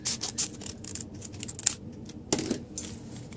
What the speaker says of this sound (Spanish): And let's start opening this envelope.